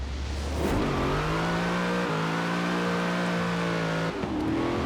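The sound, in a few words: Chevrolet Camaro ZL1 engine revving in video game Forza Horizon 4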